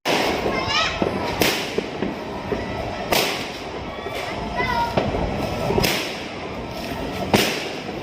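Fireworks explode in loud, sharp bangs every second or so, some with crackling tails, close by, while children and adults talk and react throughout.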